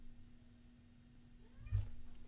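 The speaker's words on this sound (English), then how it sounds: "I hear you meowing" A cat named Timmy gives a single short, faint meow near the end, rising briefly over a quiet room with a low steady hum.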